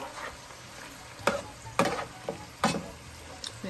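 Cabbage leaves fry in a pot while being stirred, a low sizzle broken by several sharp scraping clacks of the utensil against the pot, close up.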